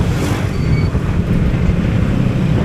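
Dense traffic-jam noise surrounds a rider on a Yamaha XMAX 250 scooter, with motorcycle engines droning and rumbling loudly and continuously close by.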